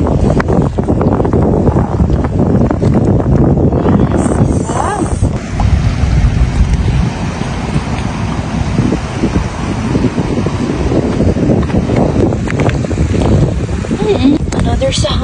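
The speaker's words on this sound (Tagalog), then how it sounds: "mahangin at maalon ngayon ang dagat." Strong wind buffeting the microphone at sea on a rough, choppy day, a loud continuous roar with gusts and wave wash, with people talking intermittently over it.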